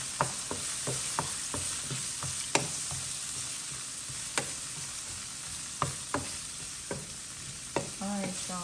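Shrimp sizzling in a pan under a steady hiss, with repeated clacks and scrapes of a utensil stirring them at an irregular rhythm, close and moderately loud, with no talk.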